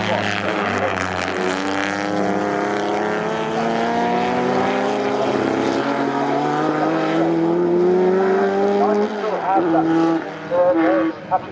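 Three historic race cars, two Jaguars and a Cooper, roar through Coram corner at Snetterton during the RAC Woodcote Trophy race. Loud engine notes climb steadily in pitch, then drop sharply, under a commentator's talk.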